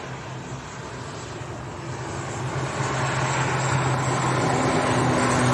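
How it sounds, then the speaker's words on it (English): Aer Lingus airliner on its takeoff roll at Leeds Bradford Airport, a broad jet engine roar heard from a distance that swells steadily louder over several seconds. "Right, Aer Lingus to Belfast on the roll."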